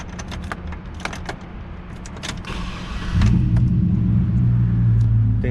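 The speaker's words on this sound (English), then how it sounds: "Sunroof. I'm gonna turn it on for you guys." An electric sunroof on a Chevrolet Trailblazer SS starts with scattered clicks inside the cabin, then a louder motor hum runs steadily for the last couple of seconds.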